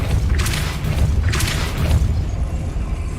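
Depulso force spell cast in the video game Hogwarts Legacy, heard as two loud, deep booming whooshes about a second apart over a heavy rumbling game soundscape.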